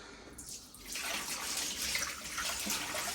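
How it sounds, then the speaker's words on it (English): Water from a Vileda Spin & Clean mop bucket being poured into a sink, a steady close splashing rush that builds and continues without any talk. "I'm going to empty the water down into this sink"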